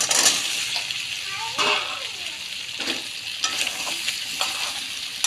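Potato and taro chunks sauté in hot spiced oil for a ghati kochu dish with prawns, a steady close sizzle with scraping stir strokes and occasional clatter, while a voice talks faintly underneath.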